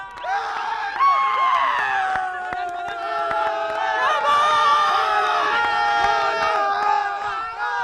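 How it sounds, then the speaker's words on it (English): A cricket crowd at a Lashkaria Stallions vs Sailors match roars after a six, a sustained loud swell of cheering, whoops and shouting voices that stays high throughout. "Look at the crowd."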